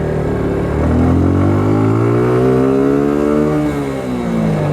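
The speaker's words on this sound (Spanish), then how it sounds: "Alcanzamos 70 kilómetros en ese pedazo y suena bien el motor" A Suzuki Gixxer SF motorcycle engine at speed around 70 km/h, a loud, sporty droning hum that rises in pitch as it accelerates, then dips briefly as the rider eases off, steady and close with no talk.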